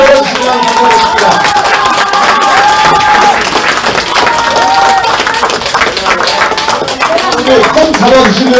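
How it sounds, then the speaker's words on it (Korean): A crowd claps at a presidential campaign headquarters launch ceremony in Incheon. Dense, sustained clapping and murmuring run throughout, with an amplified voice speaking over them. "여러분 큰 박수로 이분들 기운을 넣어주시면 감사하겠습니다"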